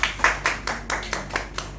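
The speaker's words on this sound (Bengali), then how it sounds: "জোরে হাততালি হয়ে যাক।" An audience claps at a film trailer launch event in a rhythmic series of about eight distinct, moderately loud claps. The claps come at an even pace, with faint background murmur.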